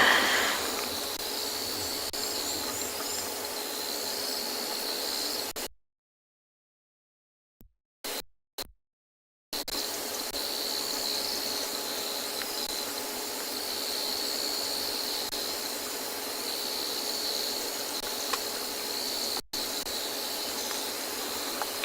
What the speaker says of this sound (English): there's a lot of the nocturnal animals waking up around us. Got some insects, some frogs.